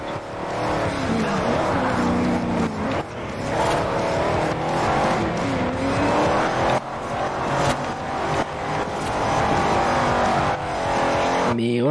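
A car drifting in the Forza Horizon racing video game, with a loud, continuous engine roar rising and falling through gear changes and tyre squeal, no talk over it.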